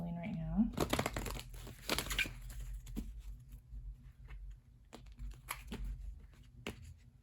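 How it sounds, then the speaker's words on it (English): Large, flexible oracle cards are shuffled by hand, giving soft papery crinkles and flicks in irregular bursts, close and quiet, with a brief voice at the start. "I'm shuffling right now."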